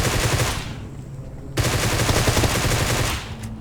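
Automatic rifle fire in the mobile battle-royale game PUBG Mobile, two loud sustained bursts of rapid shots separated by a brief gap, close and dominant with no talk over them.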